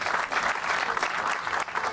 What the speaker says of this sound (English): another round of applause for the dynamic duo here